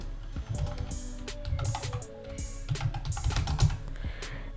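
Rapid typing on a computer keyboard while a menu name is entered in a Shopify store's admin, with close, continuous clicking keystrokes in uneven bursts over a low steady hum.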